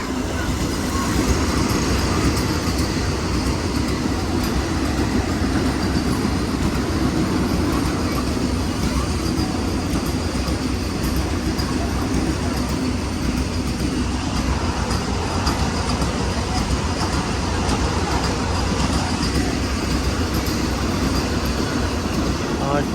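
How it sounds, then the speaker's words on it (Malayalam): A non-stop express train rumbles steadily through a railway station at close range, a continuous loud roar of wheels and wagons with faint voices underneath. "ഏതോ ഒരു ട്രെയിൻ അറ്റത്തുനിന്ന് വരുന്നുണ്ട് കേട്ടോ നിർത്താണ്ട് പോണ ട്രെയിനാണ്"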